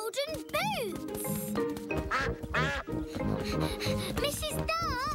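A cartoon duck in a children's animated show quacks repeatedly in bright, wobbling calls mixed with lively character voices and music, close and loud throughout.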